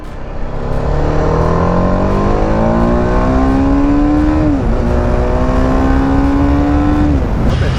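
A TVS Apache RR310 motorcycle engine revving loud and close, a steady drone climbing slowly in pitch, dipping briefly midway, then climbing again, with no talk over it.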